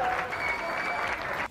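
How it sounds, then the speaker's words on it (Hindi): Athletes from other countries applaud Ukrainian athletes protesting at the Winter Paralympics, dense steady clapping from a crowd that cuts off abruptly at the end. "वहां पहुंचे दूसरे देशों के खिलाड़ियों ने भी प्रदर्शन कर रहे यूक्रेन के खिलाड़ियों का तालियां बजाकर समर्थन किया"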